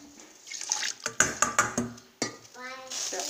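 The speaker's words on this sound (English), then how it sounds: "I'm just gonna rinse the bowl out" Water splashing and sloshing as a bowl is rinsed out into a pot of white rice, with a few clinks of the bowl against the pot and a short trickle of pouring near the end.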